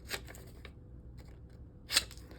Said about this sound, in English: where's my scissors? I'm going to cut off the corners.